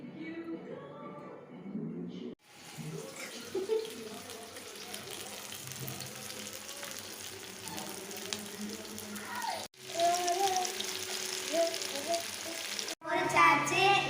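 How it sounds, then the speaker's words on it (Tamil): Fish fries in hot oil with a steady, dense sizzle and crackle at close range. The frying cuts out briefly twice and then resumes louder, with no one speaking. "மீனை இப்போ பொரிச்சுக்கலாம்."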